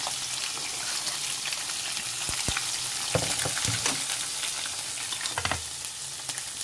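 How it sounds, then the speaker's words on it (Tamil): Onions and a bay leaf sauté in hot oil in a pan, making a steady frying sizzle broken by several sharp crackles and scrapes of a spoon, close up with no voices. "இது வறுபட்டதுக்கப்புறம் வெங்காயத்தை போட்டு வதக்கணும்"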